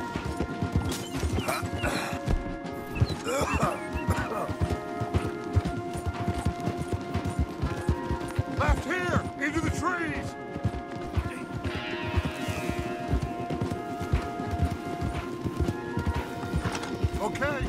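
Horses gallop hard in the video game Red Dead Redemption 2, a rapid continuous clatter of hooves with an occasional whinny, while characters' voices talk over the ride.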